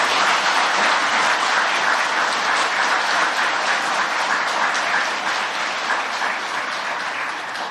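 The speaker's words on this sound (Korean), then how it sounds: "다시 한번 뜨거운 위로와 격려의 박수를 부탁드립니다" Sustained audience applause at a memorial gathering honoring bereaved families, a dense, steady clatter of many hands lasting throughout and tapering slightly near the end, with no talk over it.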